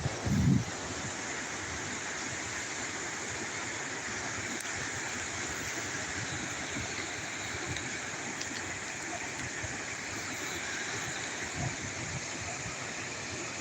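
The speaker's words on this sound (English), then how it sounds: "This is Lower Falls, Lower Falls in Rochester" Steady broadband rushing of Lower Falls in Rochester, New York fills the air, constant and fairly loud, with a brief knock at the start and no talking.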